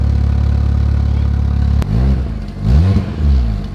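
A Fiat Punto engine fitted with a cheap new exhaust holds a steady idle, then revs up in two or three deep, bassy surges that rise and fall, loud and close with no talk.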